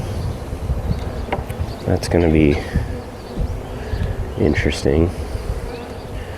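A steady buzz of honey bees hums close by while a person speaks over it during installation of packaged bees into a top bar hive, the droning continuing throughout.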